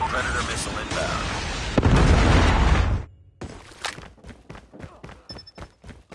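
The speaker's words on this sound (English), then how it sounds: "Predator missile inbound." A predator missile strike in the Call of Duty Mobile multiplayer video game sets off a loud, rumbling blast that lasts about three seconds. Sharp pops and scattered impacts follow in quick succession.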